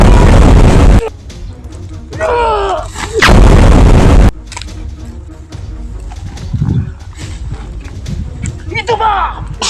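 A grenade blast in a Filipino gaming session, heard as loud booming bursts at the start and again near four seconds, followed by quieter rumbles, with scattered shouting voices and other noises around it.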